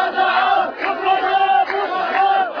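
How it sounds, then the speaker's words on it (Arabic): A protest crowd outside chants in loud, rhythmic unison, a dense mass of voices rising and falling in repeated shouted phrases. "وفي الخارج هتافات تندد بواقع حرية يضيق على أهله أكثر فأكثر."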